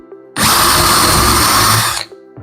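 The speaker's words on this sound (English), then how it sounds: "Drill through" A power drill bores through a wooden drilling jig, one loud, close burst of steady whine and grinding lasting under two seconds before it stops.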